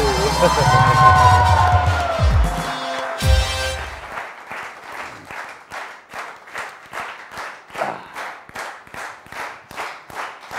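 A television talk-show studio audience bursts into applause, first under a loud voice and music, then as rhythmic unison clapping that carries on alone in steady beats.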